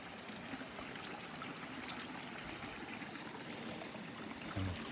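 Water trickling and streaming steadily beneath a small bridge linking two koi ponds in a backyard setting, a soft continuous flow heard up close with no talking.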